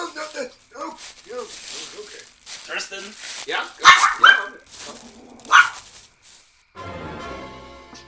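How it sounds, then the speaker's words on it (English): A dog gives a few sharp barks mixed in with close talking voices, followed by a burst of rustling, stumbling noise near the end. "Is that a dog?"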